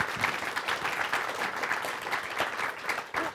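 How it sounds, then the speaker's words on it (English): An indoor audience at a televised business talk show claps in a dense, steady round of applause that lasts a few seconds at moderate volume. "Give him a round of applause."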